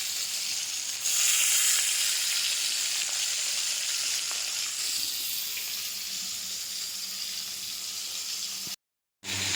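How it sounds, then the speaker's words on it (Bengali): Fish frying in hot oil, a continuous dense hiss and crackle close by at steady loudness, briefly rising early on and cutting to silence for a moment near the end. "তো মাছটা ভেজে নিই"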